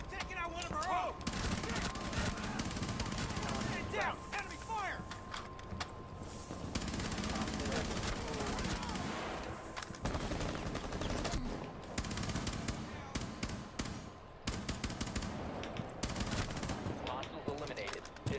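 Rapid automatic gunfire from Rainbow Six Siege fills the scene as a weapon is pre-fired around a corner, dense and loud, with someone talking over the shots.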